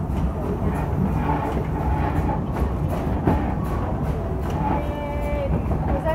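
The Silver Dollar City steam train rolls steadily and loudly, with a rumbling low drone, rail clatter and faint squeal tones toward the end as it slows to a stop.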